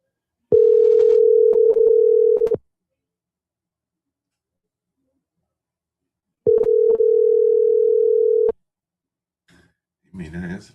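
A telephone line tone while placing a call: two long steady beeps of about two seconds each, separated by a few seconds of silence, followed by brief speech at the end.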